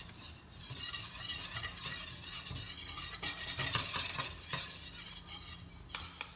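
Whisking flour in a pan for enchiladas, a steady scraping and stirring against the pan with a faint sizzle and occasional metal clinks, continuous and close.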